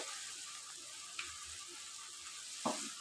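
Pointed gourd curry with sugar being sautéed in a pan: a faint, steady frying hiss with a couple of soft utensil clinks, one small scrape near the end, distant and low in level.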